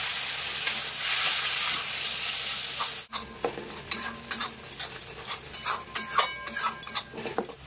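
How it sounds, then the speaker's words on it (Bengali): A spice masala fries with a splash of water in a pan. Loud sizzling cuts off sharply, then gives way to softer bubbling with scattered crackles and stirring taps. "এবার সামান্য পরিমাণে একটু জল দিয়ে মশলাটা খুব ভালোভাবে কষে নেব"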